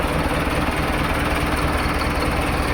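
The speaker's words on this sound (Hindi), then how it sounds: "ये देखो ट्रैक्टर स्टार्ट करता" A Mahindra Arjun tractor's diesel engine idles nearby with a loud, steady low rumble and rhythmic knock throughout, and no talking.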